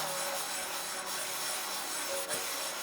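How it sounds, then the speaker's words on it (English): Steady, continuous sandpaper rubbing on an RM250 motorcycle engine case, an even gritty scratching that carries on without pause, with no voices. "Definitely don't want to do too much sanding on it."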